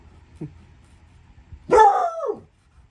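A small fuzzy dog gives one faint short yip, then after a pause a single loud, close, high-pitched bark that trails off into a whine, in an otherwise quiet room.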